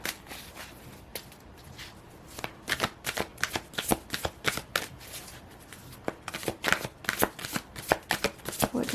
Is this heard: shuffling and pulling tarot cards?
yes